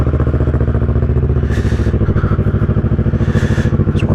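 A 2010 Kawasaki ER6N motorcycle, recently fitted with new spark plugs, runs loud and close just after starting, a fast rough idle that thrums evenly with slight surges and clatter.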